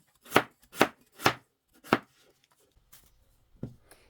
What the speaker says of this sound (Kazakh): Енді міне картошкамызды тураймыз.